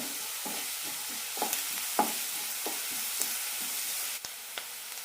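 Potato pieces stir-fry in a pan over a medium flame, with a constant soft sizzle under a series of irregular spatula scrapes and taps. No one speaks.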